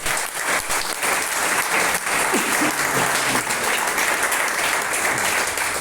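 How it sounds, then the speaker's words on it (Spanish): A church congregation claps loudly and steadily for the Lord, dense sustained applause filling the room with a faint voice underneath. "De un aplauso fuerte al Señor"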